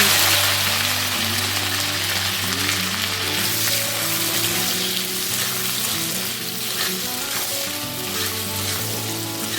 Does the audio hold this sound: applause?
no